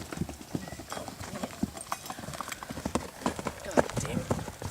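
A horse being broken to saddle clip-clops under its rider, irregular hoof falls on the ground mixed with people talking throughout.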